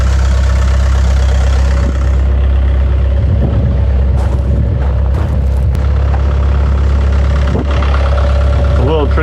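A vehicle engine drones loudly and continuously while being driven without a seat, a deep steady rumble filling the whole span with some rattles and clunks over it.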